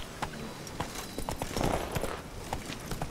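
Roach the horse gallops in The Witcher 3, hooves striking in a steady, quick rhythm, close and clear, with no talk over it.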